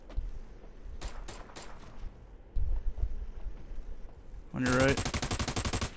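Automatic gunfire in the tactical shooter America's Army: Proving Grounds, a loud rapid burst near the end after a few scattered shots, with a player talking over the game.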